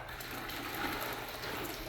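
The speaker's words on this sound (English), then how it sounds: "Get some water running down the sluice." Water running down a prospecting sluice with a mat in a garage, a steady soft rushing flow, fairly quiet and even throughout, no talking.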